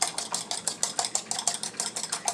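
Quick rhythmic whisking of eggs in a bowl, a steady run of light clinking strokes close by with no talk.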